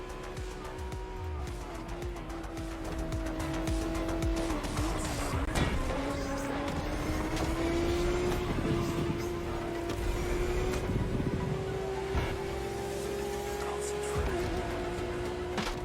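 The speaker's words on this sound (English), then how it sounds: "I'll let you guys listen to some of the engine sounds." Lamborghini Revuelto engine from the video game The Crew Motorfest, a sustained, rising and falling engine note with gear-change dips, blended with game music and effects, moderately loud and continuous.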